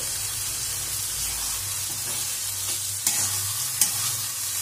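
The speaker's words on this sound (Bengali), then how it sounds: "লোটে মাছটা কাঁটা ছাড়িয়ে রাখা ছিল, এবার সেটা আমি এর মধ্যে ঢেলে দেবো।" Deboned lote fish (Bombay duck) sizzles steadily in hot spiced oil in a pan over slightly raised heat, with a couple of sharp clicks of stirring near the end. Close and continuous, with no voices.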